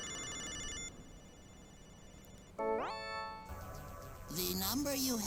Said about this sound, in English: Pick up the phone, Napoleon.